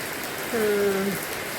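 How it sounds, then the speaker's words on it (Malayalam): Steady rain falling, a dense, even hiss of drops that fills the whole moment, fairly loud and close, with a brief tonal sound rising over it midway. "ഇങ്ങനെ മഴ പെയ്തുകൊണ്ടിരിക്കുക തോനെ പെയ്തുകൊണ്ടിരിക്കുക"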